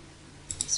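Two quick, faint mouse clicks close together, like a right-click on a computer mouse while working in architectural design software, in a quiet room with no talking.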